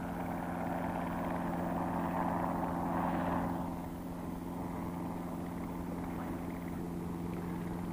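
Helicopter passing over a carp fishing lake, a steady mechanical drone that swells slightly midway and then eases, heard alone at moderate distance.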